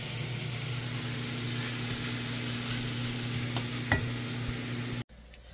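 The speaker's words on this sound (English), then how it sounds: "We'll fry up some eggs over here to put in the puppy's food with some" Eggs fry in a skillet alongside vegetables, a steady soft sizzle with a low hum beneath and a few light clicks of stirring, continuing for about five seconds before stopping abruptly.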